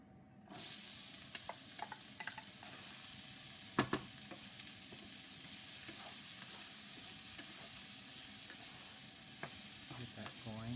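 Chopped onions fry in a pan for a lamb keema curry, a close, continuous hiss and sizzle broken by scraping and clattering stirring strokes, with no voices.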